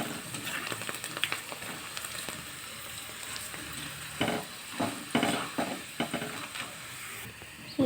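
Vadiyalu, sun-dried lentil fritters, frying in hot oil: a steady sizzle and hiss with occasional stirring scrapes and bubbling bursts, fairly close, no talking.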